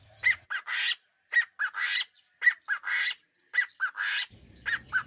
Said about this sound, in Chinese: 这玩意儿的叫声你要是就站在它旁边的话， 那个穿透力还是挺强的， 声音特别大。